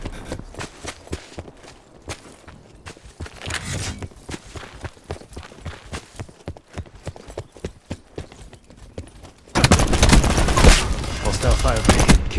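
Gunfire and action sounds in the video game Call of Duty: Black Ops 4, played on PS5, with rapid clattering shots and bursts that grow much louder and denser in the final few seconds.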